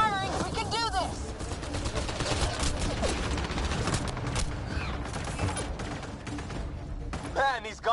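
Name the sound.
gunfire in a video game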